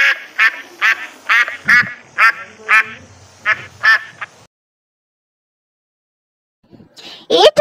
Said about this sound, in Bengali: এটা হলো হাঁস। হাঁসকে ইংরেজিতে বলে ডাক।